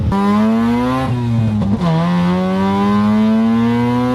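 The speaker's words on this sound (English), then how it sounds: "today we're in this typical ported twin turbo 13B" A ported twin-turbo 13B rotary in a Mazda RX-7 FC revs hard and close, a loud continuous buzzing rotary wail that dips briefly between gears then climbs steadily again.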